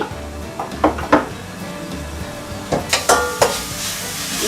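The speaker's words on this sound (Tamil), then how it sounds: "வெங்காயம் நல்லா வறுப்பட்டுச்சு" Onions frying in a pan for a vada curry give a soft sizzle under scattered clinks and scrapes of stirring, fairly quiet and close.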